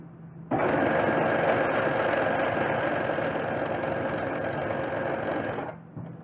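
A sewing machine stitches the center seam of a pair of pants where the crotch seams meet, one loud, steady, close run of about five seconds with no talking.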